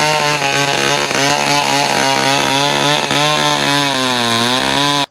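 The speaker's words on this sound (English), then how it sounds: "one can easily hear the sounds of sawing machines in and around the forest of Abuja State rending the air" Chainsaws cut wood in a forest near Abuja, a loud, steady motor whine with shifting pitch that runs continuously, the engine rising and falling as the blade bites.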